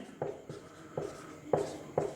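During a trigonometry math lesson, a teacher writes on a board in short, brisk strokes, about five distinct scratches spaced a fraction of a second apart. The strokes are close and fairly quiet, with no talking over them.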